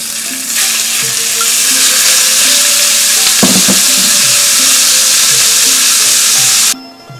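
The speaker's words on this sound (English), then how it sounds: "I'm going to add a couple tablespoons of oil. And I'm going to add the marinated beef to it." Marinated beef frying in hot oil in a pan, a loud steady sizzle close up throughout with brief stirring scrapes partway through, cutting off near the end.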